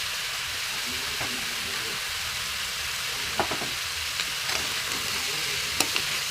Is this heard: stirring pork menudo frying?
yes